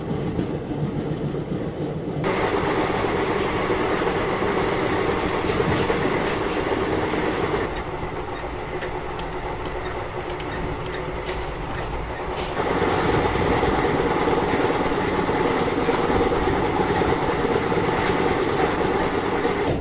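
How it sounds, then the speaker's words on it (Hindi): An Indian Railways passenger train rolls away from a station and picks up speed, its wheels beating a loud continuous clickety-clack with faint squeals as the sound shifts between carriages, no speech heard. "जैसे ही बाहर आया वैसे ही ट्रेन का डिपार्चर जो है वो हो गया।"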